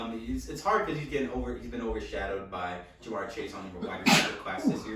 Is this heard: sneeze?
yes